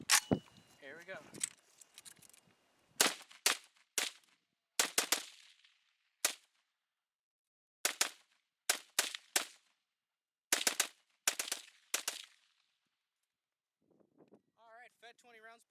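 An AK-47 rifle fed from a TAPCO magazine fires outdoors in sharp, loud single shots and quick double taps, separated by short pauses, with faint voices near the end.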